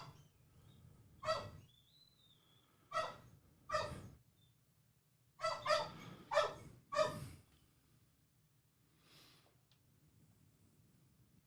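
A Labrador barks indoors in a string of sharp, moderately loud woofs, two early single barks, then a quick cluster of four or five, and a faint final bark, with quiet room noise between.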